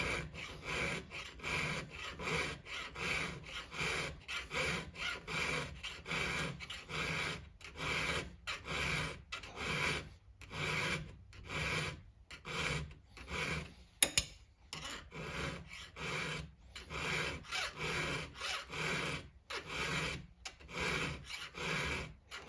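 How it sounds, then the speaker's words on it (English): A hand file rasps steadily across the cutters of a Stihl 462 chainsaw chain, quick close strokes repeating in an even rhythm with brief pauses between passes, no talking. "I'll use the file for now"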